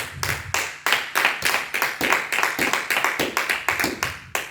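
A church congregation claps in a steady, fast rhythm to acclaim the Lord, with dense, loud, close handclaps continuing without a break.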